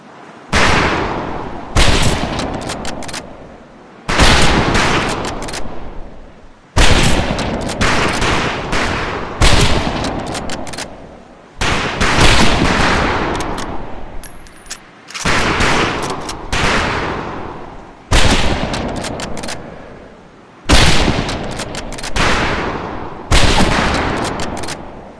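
Rifle fire on a boot-camp firing range in the Medal of Honor video game: loud, close volleys of overlapping shots in repeated bursts of a second or two, separated by brief pauses, continuing throughout.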